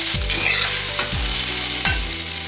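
Garlic and ginger sizzle steadily in a hot pan, with about three loud scraping stirs spaced roughly a second apart, close and without any talk.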